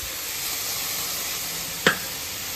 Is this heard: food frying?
yes